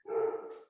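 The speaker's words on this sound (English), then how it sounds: "I'm sorry for the barking." A single puppy bark, sharp and fairly close, rising fast and trailing off in under a second, with no talk over it.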